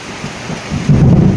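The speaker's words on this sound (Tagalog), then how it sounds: "Kumulog mga kaibigan." Low thunder rumbles and swells beneath steady heavy early-morning rain, growing louder toward the end of the short stretch.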